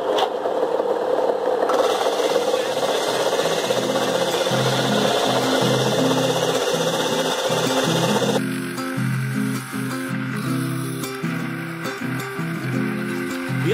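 A roller sander with interchangeable rollers works a piece of wood in a long stretch of close, loud abrasive rubbing with a steady motor whine and a rhythmic scraping texture, with no talking.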